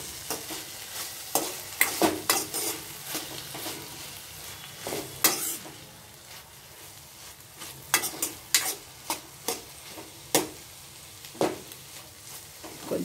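Eggplant pieces for a raw-mango curry fry in a pan with a steady low sizzle, punctuated by repeated sharp clinks and scrapes of a spoon stirring against the metal, fairly close.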